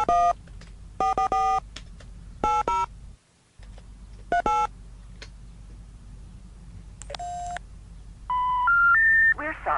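A telephone in The X-Files video game dials a number, giving clusters of bright touch-tone beeps with brief pauses between them, followed by rising three-note error tones at the end.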